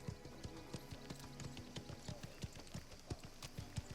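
A horse's hooves clip-clop at a steady walking pace in the video game Mafia The Old Country, a quiet, even stream of hoof strikes with no speech.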